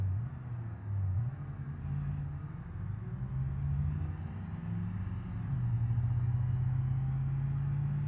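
A car engine accelerating in the driving simulator BeamNG, a low rumbling hum that rises and shifts in pitch as it revs up, steady and moderately loud with no voices.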